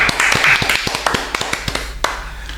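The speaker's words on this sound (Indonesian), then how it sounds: "Tepuk tangan dulu." A small podcast audience in a home studio claps hands, a burst of overlapping claps that thins into scattered individual claps, close and fairly loud.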